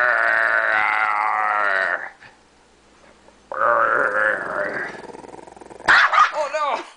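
An angry dog growls close by in two long, drawn-out rumbling bursts separated by a short pause, then breaks into a quick cluster of sharp barks and yelps at the end.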